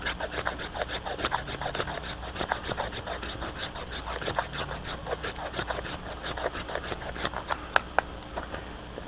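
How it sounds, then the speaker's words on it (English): A knife shaving thin curls of resin-rich fatwood from a pine stump root outdoors, repeated short scraping strokes in a steady rhythm, close and moderately quiet. "I'm going to get a few more shavings."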